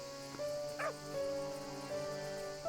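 A dog in the farm game Everdream Valley gives a single short bark near the one-second mark, over steady, tonal in-game music.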